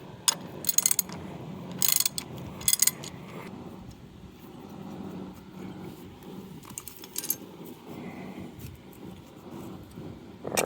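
A wrench works an 11/16 nut off the hold down clip of a Ford 515 sickle bar mower, giving a few quiet ratcheting clicks and metallic clinks in short bursts, close by and without talk.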